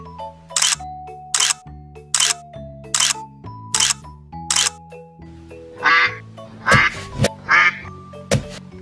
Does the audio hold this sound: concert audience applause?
no